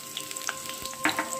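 Chopped onion sizzling in oil and ghee with bay leaf, a soft, steady fry sprinkled with small crackles and pops.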